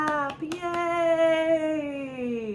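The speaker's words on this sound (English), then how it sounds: "And then we clap," Several sharp hand claps at a baby storytime session, a few quick hits at the start, followed by a sustained, drawn-out sung voice.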